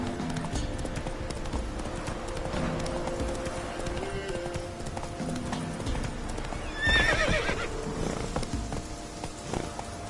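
A horse gallops in The Witcher 3 game, hooves clip-clopping in a steady rhythm with a whinny partway through, over a bed of game ambience and music.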